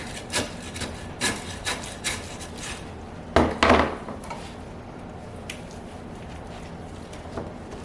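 A knife or cleaver chops and scrapes through the chine bone of a pork loin, several dull knocks and rough rubbing strokes with one heavier crunching burst midway, close and moderately loud, without talk.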